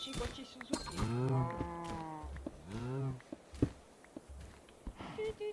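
Cows mooing in a video game, several drawn-out moos in a row, fairly close, with light footsteps and a faint clink between the calls.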